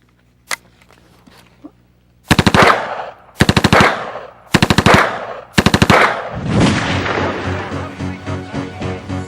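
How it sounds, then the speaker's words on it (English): A Heckler & Koch MP5 submachine gun fires several loud, close bursts of rapid automatic shots, spaced a second or so apart, after a couple of faint clicks, then a longer trailing burst. "This is the MP5 submachine gun made by Heckler & Koch in Oberndorf, Germany."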